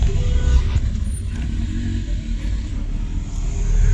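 A Mercedes 190E engine with a suspected bearing knock runs after a long trip on poor LPG fuel, a loud low rumbling drone that stays steady and close throughout.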